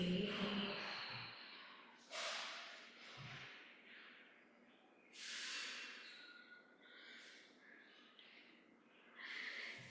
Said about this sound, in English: Again, inhale and exhale.